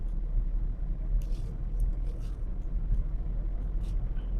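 A car rolls down a steep dip in a steady low engine and road rumble while the driver brakes and shifts down to second gear. The sound is close and even, with no talking.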